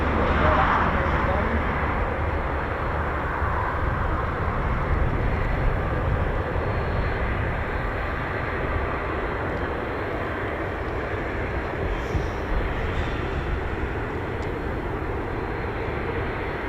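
Red Arrows jets taxi at RAF Waddington with a steady, broad jet-engine roar that holds evenly at a moderate distance throughout.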